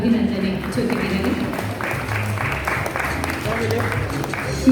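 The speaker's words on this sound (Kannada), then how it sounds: "ನಿಮ್ಮ ಚಪ್ಪಾಳೆಯ ಅಭಿನಂದನೆ ಜೊತೆಗಿರಲಿ" Audience applause at an award ceremony for a Kannada Rajyotsava honour, a sustained patter of many hands clapping at moderate loudness over room reverberation, swelling slightly toward the end.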